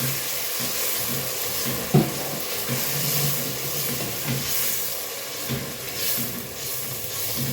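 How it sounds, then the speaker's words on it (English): Chopped tomatoes and spices sizzle steadily in a pot, with a constant frying hiss and a few soft scrapes and clinks as the mixture is stirred. "Next, I'm going to add in the tomatoes that I've also finely chopped with this, and then give them a good mix."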